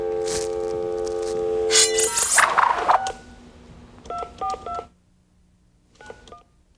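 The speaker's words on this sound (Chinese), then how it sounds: "我现在就扣给王美雪好了" A telephone number is dialed on a keypad, giving a quick run of touch-tone beeps followed by a few short, separate electronic tones with quiet gaps between them.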